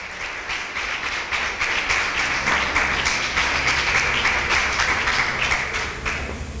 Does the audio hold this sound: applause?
yes